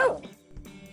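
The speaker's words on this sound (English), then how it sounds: "Need dogs barking?" A single short dog bark from a sound effects pack rings out at the start, followed by a fainter yip, brief and close.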